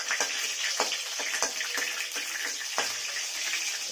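Curry leaves hissing and spitting in hot oil in a pan, a bright crackling sizzle with sharp pops scattered through, loud and close.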